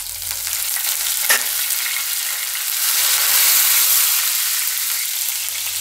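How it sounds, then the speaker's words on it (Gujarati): Green chillies and curry leaves crackle in hot oil with a loud, dense, continuous sizzle that swells in the middle, with one brief clink near the start and no talking. "હવે આપણે એમાં લીલા મરચાં નાખીશું ને લીમડો નાખીશું."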